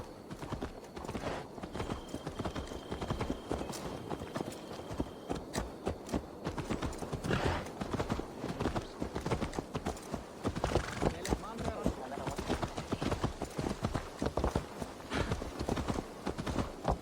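Horse hooves clip-clop steadily in Assassin's Creed Valhalla, a continuous rhythmic patter of strides at close range that runs throughout, with a neigh and people talking over it.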